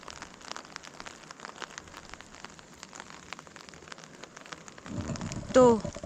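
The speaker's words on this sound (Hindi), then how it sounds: "ये देखो हल्की हल्की बारिश आ रही है" Light rain falling outdoors on a hillside path toward a village, a soft steady patter of scattered drops throughout, with a louder rustle and brief murmur near the end.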